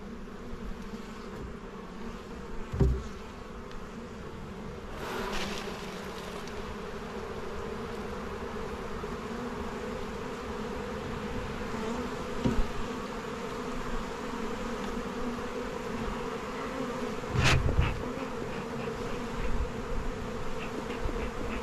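Steady, dense buzzing of many honeybees close by at an opened hive, bees shaken onto the ground, a continuous hum with a few louder bursts as bees pass near.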